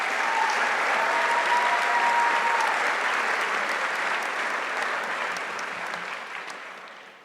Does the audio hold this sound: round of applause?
yes